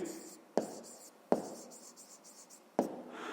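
The second solution of a fifth-grade math exercise being written out, heard as a few sharp taps and short strokes of a pen or chalk, close and quiet against faint background hiss.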